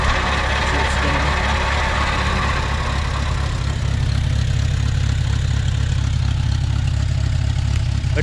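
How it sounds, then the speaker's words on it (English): A 1950 Farmall Cub tractor engine runs steadily with its PTO spinning, a loud, close, even mechanical drone with a low rumble and no talking. "Let's see if the PTO works. Yep, PTO works."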